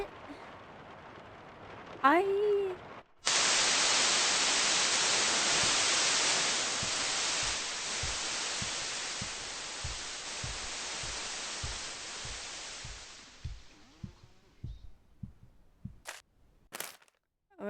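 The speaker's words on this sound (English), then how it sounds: "I wake up to the sound of the TV." TV static hisses in a video game, a loud, flat wash of white noise that starts abruptly after a brief tonal sound, holds steady, then cuts off and gives way to sparse clicks and footsteps.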